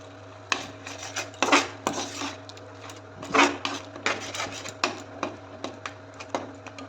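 Prawn malaikari masala is stir-fried in a pan over a medium flame. A spatula scrapes and knocks against the metal in uneven, repeated strokes, over a low constant hum.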